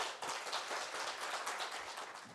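Audience applause at a Bihar eye-care conclave greets a hospital director and ophthalmologist, a dense steady wash of many hands clapping at moderate level throughout, with no talk over it.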